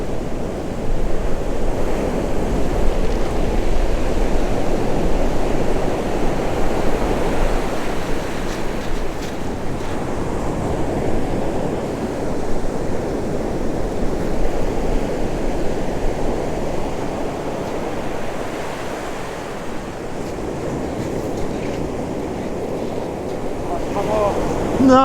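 Surf rolls onto a West Sussex beach in a continuous loud wash of breaking waves, with wind buffeting the microphone throughout.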